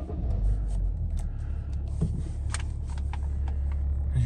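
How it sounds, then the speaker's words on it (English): A 2010 BMW 335d M Sport diesel engine starts and settles into a steady, low rumbling idle, heard close and alone without talk. "I'll just start the vehicle to show you there are no warning lights."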